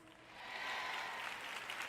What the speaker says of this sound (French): Vous applaudissez tous